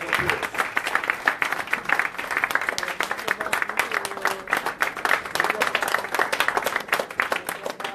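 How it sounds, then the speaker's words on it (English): Sustained applause from a seated audience welcoming a student minister at a mosque gathering, a steady dense patter of many hands clapping at moderate distance with no voices over it. "please welcome him with a big round of applause"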